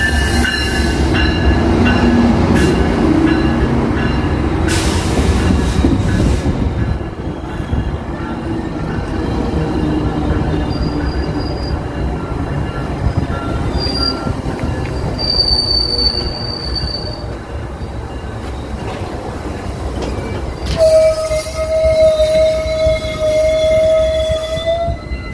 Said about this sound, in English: So we also have the Via Rail train. So this is also a high-speed train.